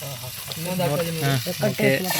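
Fish frying in hot oil over a village cooking fire, a loud, steady, close sizzle and crackle filling the whole moment, with a voice talking over it.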